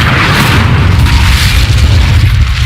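The Confringo fire spell explosion in the video game Hogwarts Legacy, a loud sustained booming blast with deep rumble that fills the whole moment, no talking.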